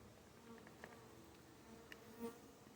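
Honeybees fanning at a hive entrance on a warm day, a faint steady insect hum with a few brief buzzy passes close by, low and continuous throughout.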